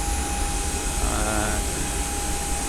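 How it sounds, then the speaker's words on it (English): Airbus A320 with CFM engines heard from inside the cabin in a flight simulator, a steady, loud broadband roar with a constant high whine. "I just wanted to show you how the engine sounds from different perspectives, from different spots inside the cabin"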